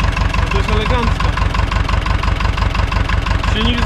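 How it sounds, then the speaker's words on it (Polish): A steady engine idles close by with a regular low throbbing pulse, loud and continuous throughout, while a voice talks faintly over it. "Silnik zdrowiutki."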